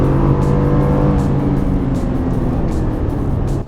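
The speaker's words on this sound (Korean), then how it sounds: "이렇게 밟아보면 엔진음이 생각보다 안으로 많이 들어오거든요" A Chevrolet Colorado pickup's gasoline engine drones loudly and steadily, heard from inside the cabin as it accelerates, a deep throaty rumble with rising revs.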